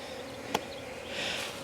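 Honey bees droning around an opened hive during a brood nest check, a soft, faint buzz with one brief click partway through.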